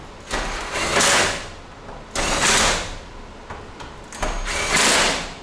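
A foil-backed foam insulation panel slides into a garage door: three loud scraping, rasping pushes about two seconds apart, each swelling then fading, up close with no talking.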